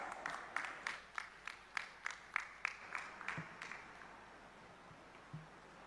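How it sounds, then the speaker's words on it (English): A gathering at a student parliament event welcomes Speaker Kuldeep Singh Pathania with applause: about a dozen sharp, evenly spaced claps ring out in a quiet hall, then taper into faint rustling. "Can we please welcome him with a huge round of applause?"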